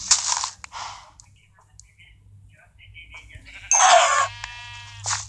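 Sheep bleating in a video game, a short wavering bleat near the end amid lively talk from players, with brief clicks and game sounds in the background.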